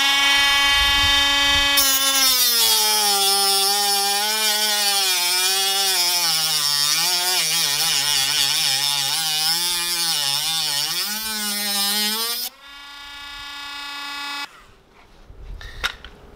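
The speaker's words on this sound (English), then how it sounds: "So I'm just gonna cut it in a bit more and finish it up." Power tool cutting a slot into an anti-theft screw: a loud, continuous high-pitched whine with wavering pitch for about eleven seconds, then it cuts off abruptly, leaving a brief quieter tail and a couple of small clicks.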